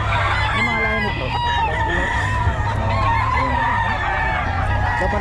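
Chickens and roosters at a poultry market in Bocaue, crowing and clucking in a dense, continuous chorus with several birds calling at once over a steady background hum and faint talk.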